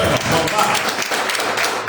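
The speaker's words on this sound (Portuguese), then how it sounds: "Dê uma salva de palmas ao Senhor" A church congregation applauds in a short burst of clapping, close and dense, with speech mixed in over it.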